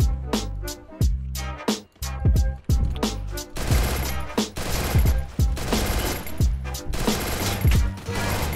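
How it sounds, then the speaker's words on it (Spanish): Rapid bursts of video game gunfire crack out in quick repeated volleys, loud and close, some shots echoing, with a player's voice briefly mixed in. "ya me está disparando."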